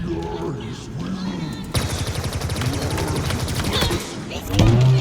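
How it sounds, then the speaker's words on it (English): Rapid bursts of needler fire in Halo Infinite, a quick rattling volley of shots with small explosive pops, set among game effects and a speaking voice. "The needler is pretty good, as you can see, and you still get a little explosion."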